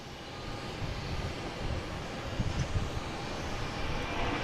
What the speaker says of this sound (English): Next coming in, we have JetBlue, an A220 coming in from Louis Armstrong International Airport.